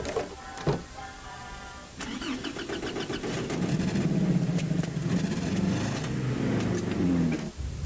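A cartoon Jeep engine cranks and turns over, then settles into a steady mid-pitched running rumble, close and fairly loud, with brief clicks before it starts.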